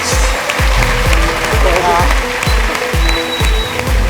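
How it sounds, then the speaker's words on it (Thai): Studio audience applause on a Thai TV game show washing over a steady thumping beat, with a voice talking above the clapping. "ขอสิบปรบมือให้กับพี่เก๋และแสดงความดีให้กับคุณเต้ยครับ"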